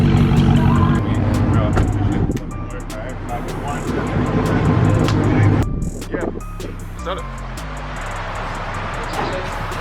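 A 2021 Dodge Challenger Scat Pack with its mid muffler deleted roars loudly up close, a heavy burbling exhaust rumble that eases briefly and then swells again, with a short drop to a lower idle burble.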